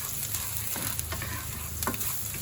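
Garlic sizzles and fries in hot oil in a pan, a steady close crackle with light stirring scrapes and no voices.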